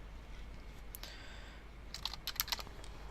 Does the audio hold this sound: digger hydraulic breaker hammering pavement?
no